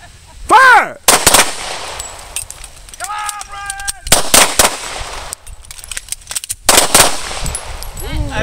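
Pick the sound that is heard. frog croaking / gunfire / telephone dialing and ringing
gunfire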